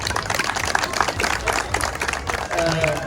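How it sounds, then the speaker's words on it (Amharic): Audience at an Ethiopian community gathering in Tampa Bay, Florida applauds volunteers joining an election board, steady dense clapping throughout with crowd noise and some voices mixed in. "ባካችሁን አጨብጭቡላቸው"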